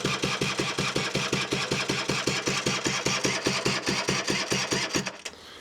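A Honda Vision NH80 scooter engine cranking over on its battery without catching, a fast, even chugging of starter strokes heard close and loud that stops abruptly near the end.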